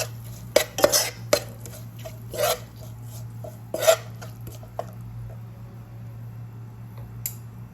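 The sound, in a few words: stirring chilli powder masala in a pan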